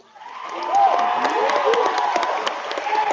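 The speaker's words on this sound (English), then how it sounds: "Please help me applaud Miss Mia Bebo," An audience of students and families at an 8th grade school assembly bursts into applause and cheering, rising quickly and holding steady, with excited voices and shouts mixed into the clapping.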